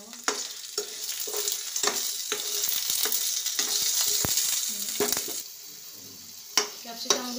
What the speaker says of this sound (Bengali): ওই তেলে আমি ক্যাপসিকামগুলো ভেজে নেব।